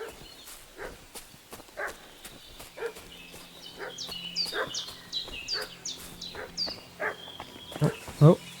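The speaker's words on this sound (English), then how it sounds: "Sounds like the dog's barking" A dog in the medieval game Kingdom Come: Deliverance barks repeatedly from a moderate distance, the barks spaced irregularly amid birdsong and footsteps.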